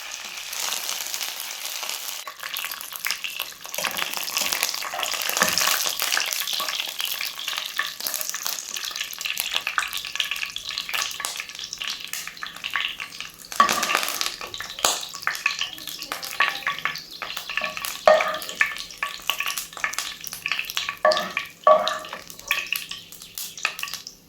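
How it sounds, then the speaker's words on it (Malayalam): Shallots and curry leaves fry in hot coconut oil for a fish curry, a loud crackling sizzle with stirring clatter and sharper pops toward the end. "ചെറിയുള്ളിയൊക്കെ അത്യാവശ്യം ഫ്രൈ ആയിട്ടുണ്ട് അതിലേക്ക് ഇനി ഞാൻ കുറച്ച് കറിവേപ്പില കൂടി ആഡാക്കി അതും കൂടി ഇതിൻ്റെ കൂടെ ഫ്രൈ ചെയ്തിട്ട്"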